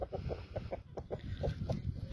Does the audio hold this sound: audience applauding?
no